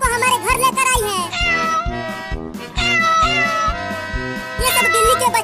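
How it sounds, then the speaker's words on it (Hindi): A cartoon mother cat and her kittens meow again and again, with high, drawn-out calls over a bouncy, rhythmic music bed and no talk. "बिल्ली अपने सभी बच्चों को हमारे घर लेकर आई है"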